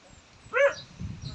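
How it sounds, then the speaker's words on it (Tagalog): A single short dog bark heard outdoors at a rural lot near a wooded area, moderately loud and a little distant, followed by faint rustling. "Ayun. May aso."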